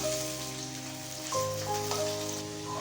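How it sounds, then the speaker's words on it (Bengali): Cut potatoes fry in hot oil in a kadai, giving a soft, steady sizzle under a faint tonal hum. "আলুগুলোকে লাল লাল করে ভেজে তুলে নেব"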